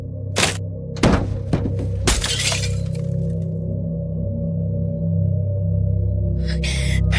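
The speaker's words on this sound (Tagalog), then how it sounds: "Hinampas ko ang bintana gamit ang dulo ng walis tambo. At ito ay aking nabasag." Window glass struck and smashed with the end of a broom handle: several sharp loud cracks and shattering crashes in the first three seconds, then a low steady hum with a brief clatter near the end.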